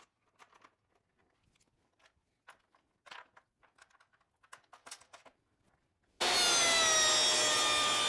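Table saw cutting wood on a modular crosscut sled for a final cut, a loud steady whine that starts abruptly after quiet shop handling noises and runs continuously to the end.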